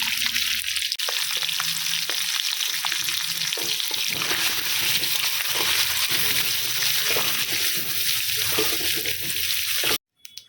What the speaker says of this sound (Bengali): এবার একইভাবে ডিমগুলোকে হালকা করে ভেজে নেবো